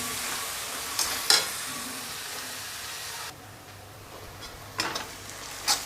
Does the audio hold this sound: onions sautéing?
yes